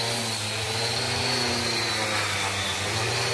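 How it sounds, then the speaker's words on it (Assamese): A woodworking machine smooths the surface of a wooden door being made with a decorative design, giving a loud, continuous roaring whine that holds steady throughout with no talk. "এতিয়া বৰ্তমান সিৰিজ মেচিন মাৰি থকা হৈছে"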